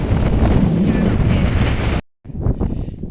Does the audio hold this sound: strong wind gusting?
yes